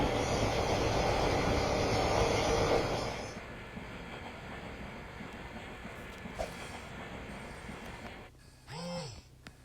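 Rumbling ride inside a metro train, loud rushing noise that fades to a steadier hum, with a brief rising-falling tone near the end.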